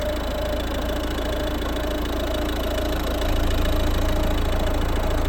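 Warmed-up 2010 Volvo V50 R-Design 1.6 D2 diesel with a Garrett turbo idling steadily, a loud, even engine drone that grows slightly louder partway through, with no talk.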